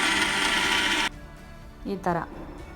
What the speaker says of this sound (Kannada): ಹಾಕಿಟ್ಕೊಂಡು ಇದನ್ನು ಮಿಕ್ಸಿ ಮಾಡ್ಕೋಬೇಕು, ಸಣ್ಣಗೆ ಪೌಡ್ರ್ ಮಾಡ್ಕೋಬೇಕು.